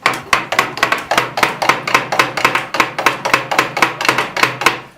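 A fast, steady rhythm of sharp percussive strikes, evenly spaced and loud, like a hand-beaten folk instrument played up close with no voices.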